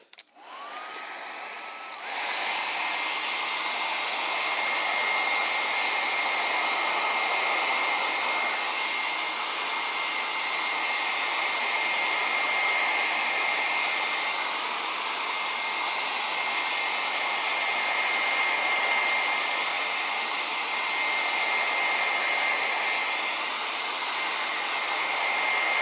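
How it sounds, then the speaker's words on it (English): A hair dryer switches on and blows steadily for a long stretch, a loud close whooshing hum with a faint whine, no talking. "I'll just go ahead and use the blow dryer"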